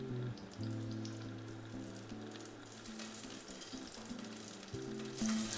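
Cannabis butter melts and sizzles in a pot over medium heat, a steady soft crackle and hiss running throughout, with low sustained musical tones in the background.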